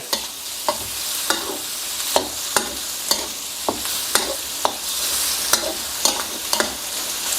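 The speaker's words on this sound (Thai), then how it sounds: "แล้วก็ผัดคลุกเคล้าให้เข้ากัน" Chicken stir-fried with Thai roasted chili paste in a pan: a continuous sizzle punctuated by regular sharp scrapes and clinks of a spatula tossing the food, close and clear without speech.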